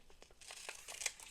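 Scissors snip a piece of paper for a collage, giving a quick run of faint, crisp cutting and crinkling sounds close by, with no talking.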